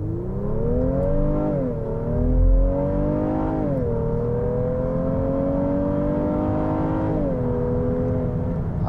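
A 2023 Honda Pilot Trailsport Elite with a V6 accelerates hard from a standstill to 60 mph on a downhill road, the engine droning loudly from the cabin and rising in pitch through three upshifts.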